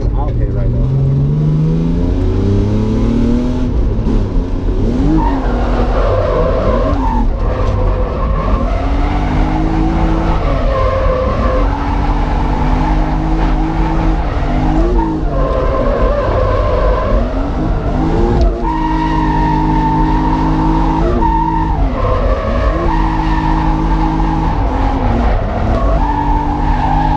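A car drifting at Driftland UK, its engine revving loud and continuous with rising and falling pitch sweeps as tyres skid and squeal through repeated slides, up close throughout.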